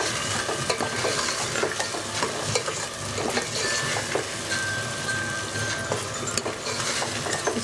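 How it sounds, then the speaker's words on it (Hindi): Ridge gourd sabzi fries with spices in a pan, with frequent spoon stirs scraping over a loud, busy sizzle close by, and no speech. "इसको भी हम 4 to 5 minutes भून लेंगे।"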